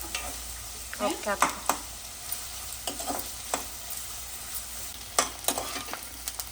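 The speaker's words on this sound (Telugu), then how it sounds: "ఒక మూడు నిమిషాలు బాగా వేగితే బాగా సిమ్లో పెట్టుకుని వేపుకోవాలి" Prawns fry in a pan over low heat, a soft steady sizzle broken by occasional scrapes and stirs of a spoon, fairly quiet and close.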